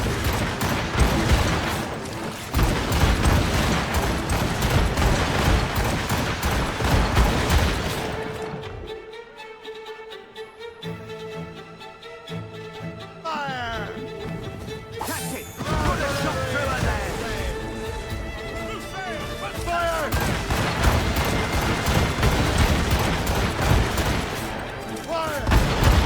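Naval battle in the video game Assassin's Creed Rogue: cannon fire booms in dense volleys with crackling impacts, loud and continuous, dropping briefly to a quieter stretch of mechanical creaks and shouts before the barrage resumes.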